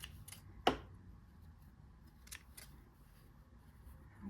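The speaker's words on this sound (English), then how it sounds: "lift your presser foot and trim your threads" Scissors snip sewing threads on a kimono after stitching, one sharp close cut followed by a couple of fainter clicks in a quiet room.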